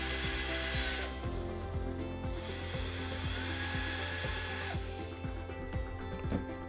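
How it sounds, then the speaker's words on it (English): A small power drill whines steadily, its pitch dipping and rising as it bores a hole through the bottom of a plastic lantern, with faint ticking underneath. "we're gonna drill a hole right into the bottom of the lantern."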